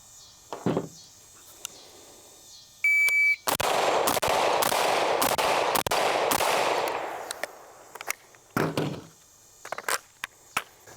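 Gunshots ring out at targets during a shooting drill on transitioning between targets, a fast string of sharp, loud cracks in a cluster, with a few isolated shots before and after and a beep-like tone at the start.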